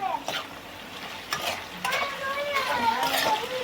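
Hot oil sizzles and crackles as cumin-coriander powder and asafoetida hit the pan in a tempering, with a few sharp scraping stirs cutting through the spatter.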